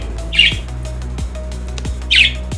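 A pet budgie gives two sharp, loud squawks about two seconds apart, close by, with faint clicking and low room hum between the calls.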